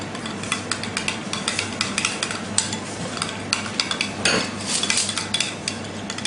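Spoon stirring shrimp cocktail sauce of Tabasco and cognac in a bowl, a run of quick soft scraping and clinking strokes, close and fairly quiet, with no talking.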